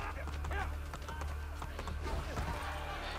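A horse galloping in Assassin's Creed Brotherhood, heard as quick, steady clip-clopping hoofbeats under a continuous game soundscape, with someone talking over it.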